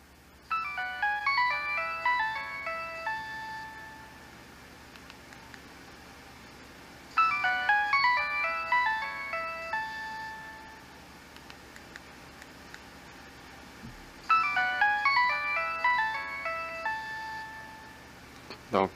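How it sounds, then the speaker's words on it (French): A phone plays a melodic ringtone, a bright repeating run of electronic notes sounded three times with short pauses between, clear and close over a faint background hiss. "je vous montrerai pas toutes les sonneries, puisqu'il y en a une trentaine si je ne m'abuse"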